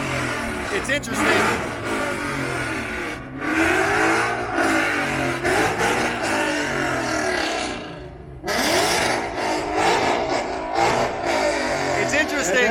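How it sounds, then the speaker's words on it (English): Ford Mustang muscle car engines roar through repeated loud revs in a rev contest at an outdoor American muscle car show, heard close over crowd noise, with a brief lull partway through. "It's a rev contest."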